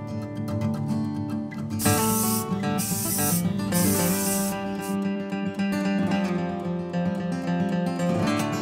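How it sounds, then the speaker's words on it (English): A Rust-Oleum etching primer spray can hisses in several bursts while coating a bathtub and sink for a bus conversion, the short sprays sitting over steady background music. "Then apply a Rust-Oleum etching primer."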